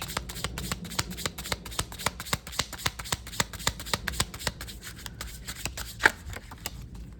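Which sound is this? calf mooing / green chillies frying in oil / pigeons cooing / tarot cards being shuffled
tarot cards being shuffled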